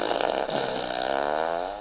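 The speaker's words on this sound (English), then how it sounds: "This is a fart machine." A fart machine gives off a single drawn-out flatulent buzz with a falling pitch, close and fairly loud, lasting nearly two seconds.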